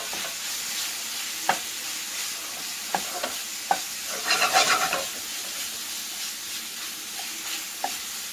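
Marinated pork frying in a pan for a homemade pizza topping is stirred, a steady hiss and sizzle with scattered clicks of a utensil against the pan and a brief louder scraping burst midway.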